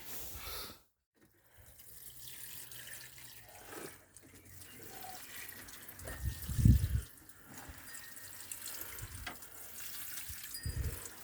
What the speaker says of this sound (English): Everything's getting a good watering today because I've let the trays dry up.